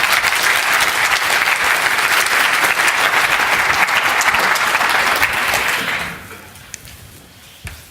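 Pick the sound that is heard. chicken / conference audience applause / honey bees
conference audience applause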